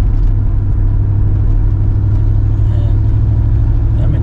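A 1988 Chevy Silverado pickup truck driving along, with a steady loud low engine drone and road rumble from inside the cab and no talking, its transmission leaking fluid from a bad rear seal.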